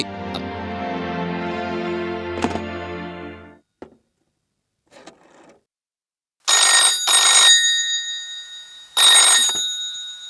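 A telephone in a Malayalam film scene rings in two loud, close electronic bursts after a stretch of sustained tones and a few faint clicks and silences.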